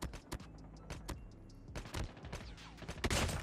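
A Damascus AK117 fires in the video game Call of Duty Mobile as short rapid bursts of sharp gunshots, spaced irregularly, with a denser volley at the end.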